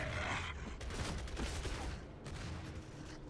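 A Locust fighter blind-firing from cover in Gears of War 3, producing a fairly quiet, sustained stream of rapid automatic shots that sounds slightly muffled and distant.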